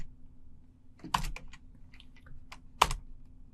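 Command typed on a computer keyboard: a handful of sparse, close keystrokes with two louder heavy taps, likely the space bar or enter, over a low steady hum.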